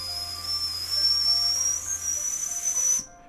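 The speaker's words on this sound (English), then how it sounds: "she interrupted by the sound of the kettle whistling" A kettle whistles steadily at a high pitch with a hissing edge for about three seconds, then cuts off abruptly.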